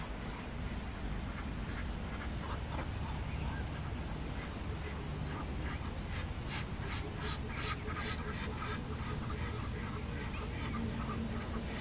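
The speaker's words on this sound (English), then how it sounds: "Look at the other duck." Ducks quack over constant outdoor background noise while being fed in Australia, with scattered calls building into a denser burst toward the end, and people talking nearby.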